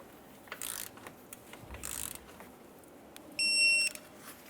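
A ratchet wrench torques a mounting bolt to 22 foot-pounds on a rear air-spring-to-coil-spring conversion for a 2003-2011 Mercury: two short, faint bursts of ratcheting clicks, followed by a brief high electronic beep against quiet background noise.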